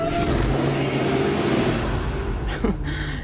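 A street-legal drag car with an Edelbrock AVS2 carburetor roars loudly as the throttle is punched, a sustained close engine rev that tails off near the end.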